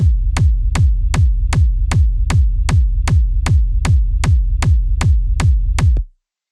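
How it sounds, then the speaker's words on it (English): A techno kick drum sample with heavy low end and a sharp transient repeats in a steady four-on-the-floor pulse of about fourteen punchy thumps, loud and alone, then stops abruptly. "Let's talk about drums now, starting with the kick that sounds like this."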